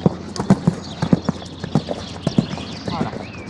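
A horse cantering during show jumping training, its hoofbeats making a steady, rhythmic clip-clop drumming on the arena ground, fairly loud and close, with a voice and a brief whinny-like sound in the background.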